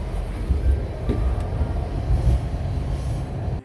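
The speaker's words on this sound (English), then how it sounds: "This is the westbound train." Westbound Baltimore Metro subway train, a heavy rail system run by the Maryland Transit Administration, heard from inside the car: a steady loud low rumble of wheels on track with rattling throughout.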